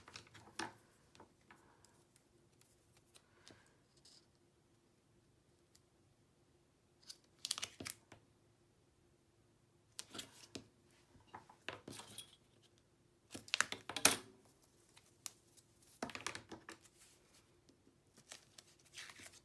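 Tape strips being peeled off and pressed back down while assembling a Graphic 45 Imagine 8 x 8 paper mini album, heard as a few sharp, crackly bursts of tearing and crinkling separated by quiet pauses, close and fairly faint.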